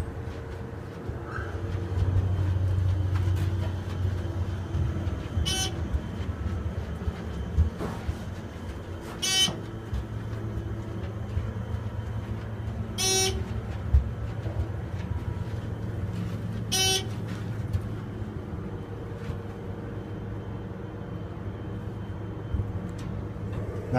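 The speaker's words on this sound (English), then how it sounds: "Nice dry powered motor." A ThyssenKrupp Aurora hydraulic elevator's dry-powered motor hums steadily in a machine room, a low continuous drone with sharp periodic clicks or beeps, no talking.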